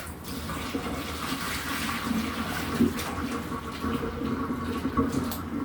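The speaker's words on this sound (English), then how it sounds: "So now I have this other pot that's waiting for me to pour it down this side." Liquid from a pot is poured down a kitchen sink drain treated with baking soda and vinegar, a steady rushing, gurgling flow of water that runs continuously and close up, with no talk.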